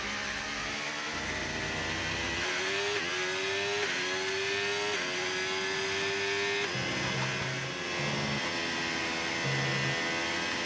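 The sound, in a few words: race car engine in a racing video game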